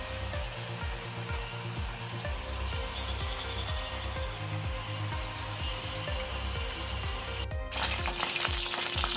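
Pakoras fry in hot oil in a pan, a steady loud sizzle with rhythmic bubbling and stirring scrapes throughout, with no speech.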